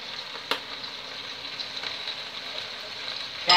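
A large onion and peas fry in a pan, giving a steady, close sizzling hiss that runs unbroken throughout, with a brief clatter near the start and a louder surge at the end.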